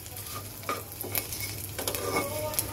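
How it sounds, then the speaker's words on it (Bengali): Mixed vegetables hitting hot oil and sizzling, a steady close hiss with scraping stirs and a few clinks of a utensil against the pan. "এবার আমি সবজিটাকে ঢেলে দেব।"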